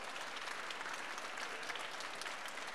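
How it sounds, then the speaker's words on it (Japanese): An audience at a special talk show in a Mitsukoshi department store applauds as guests connected to the Hakone Ekiden relay take the stage, a steady, moderately distant wash of many hands clapping without pause. "どうぞ拍手でお迎えください。"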